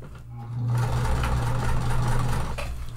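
Sewing machine top stitching a pool tote bag, a steady loud mechanical hum and whir running continuously after a brief start-up.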